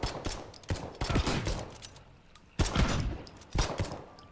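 Shotgun blasts in the video game Potentia, a handful of loud, sharp bursts spaced about a second apart, each with a short noisy tail, close and prominent.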